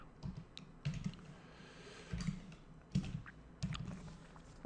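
Keys on a computer keyboard are tapped in a few soft, spaced clusters, quiet and close, with no talk.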